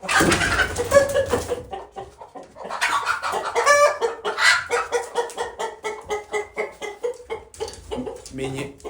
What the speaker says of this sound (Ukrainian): І їдять собі курочки до схочу.